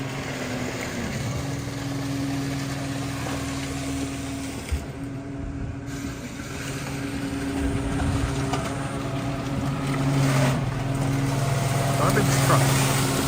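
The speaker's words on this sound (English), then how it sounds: "Garbage truck." A garbage truck engine runs on a Tokyo street, a steady low rumble with a droning hum that holds throughout and swells slightly toward the end, over outdoor street ambience.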